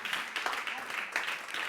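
A church congregation at a Sunday service gives a sustained round of applause, a dense wash of clapping that fills the whole moment while a voice speaks over it.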